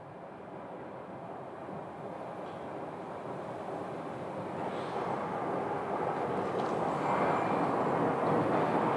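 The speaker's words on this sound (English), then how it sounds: "And that is the one that's turning off the runway. That is an A321neo." An Airbus A321neo airliner turning off the runway after landing at Phoenix Sky Harbor, its engine roar a steady broadband rumble that slowly grows louder over the clip with no talk.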